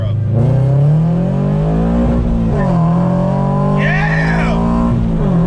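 A cheap project car's engine revving hard, a loud, steady droning note that climbs and dips in pitch, with a voice shouting over it near the end.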